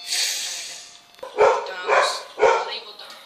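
A dog gives three sharp, loud barks about half a second apart, close by, after a brief softer sound.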